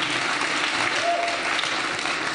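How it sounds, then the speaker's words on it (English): A church congregation claps during a sermon, sustained dense clapping filling the whole clip at an even level, with faint voices mixed in. "Come on, somebody clap for Jesus here."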